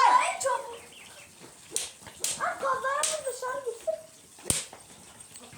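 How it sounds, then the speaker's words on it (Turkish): Chickens cluck and squawk close by in an agitated, uneven series, with a sharp knock partway through. "Lan tavuk geliyor, tavuk geliyor, tavuk."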